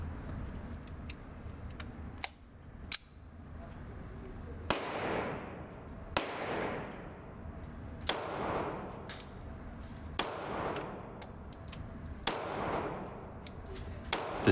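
Shots from a Sig P226 pistol ring out at a steady pace roughly every two seconds, each loud crack trailing off in a long echoing decay, with no talking.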